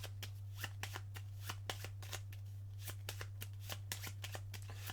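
A deck of cards for a Cartographers board-game session is shuffled, giving a rapid run of crisp riffling snaps, quiet and close over a steady low electrical hum.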